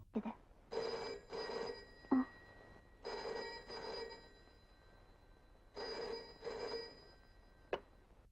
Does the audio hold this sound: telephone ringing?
yes